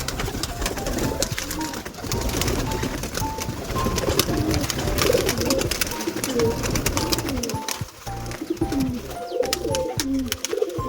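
Several pigeons coo continuously and close by as they are let out of their loft room, overlapping throaty calls mixed with wing flutters and scratchy rustling.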